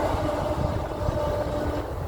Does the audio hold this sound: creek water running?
no